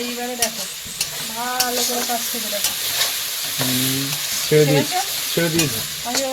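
Chicken and potatoes frying in a pan, a steady sizzle with stirring scrapes beneath intermittent talking and some background voices.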